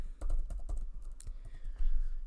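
Someone types on a computer keyboard while entering text into an Excel spreadsheet: a quick burst of close, crisp key clicks, a brief pause, then a few more taps.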